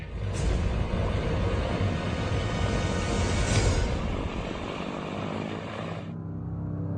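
An airplane drones steadily overhead, a loud broad engine roar that holds evenly for about six seconds before cutting off sharply and leaving a low hum.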